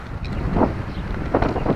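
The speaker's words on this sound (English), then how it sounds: "Man, it's so windy." Strong wind buffets the microphone in a steady low roar, with gusts swelling louder in a couple of bursts.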